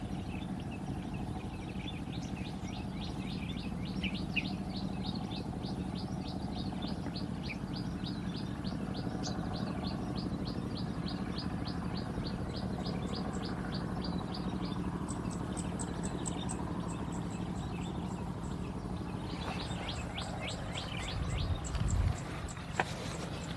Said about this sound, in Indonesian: Oke, nikmati kicauan burung terlebih dahulu.